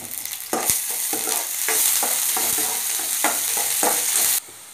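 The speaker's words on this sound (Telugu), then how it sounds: "హీట్ ఎక్కిన ఆయిల్లో ముందుగా తరిగి పెట్టుకున్న ఉల్లిపాయ ముక్కలు, పచ్చిమిరపకాయ ముక్కలు వేసి దోరగా వేగించుకోవాలి" Chopped onions and green chillies frying in hot oil, a steady bright sizzle broken by repeated scrapes and stirs of a spatula, close and fairly loud, no voices.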